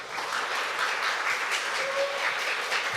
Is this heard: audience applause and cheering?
yes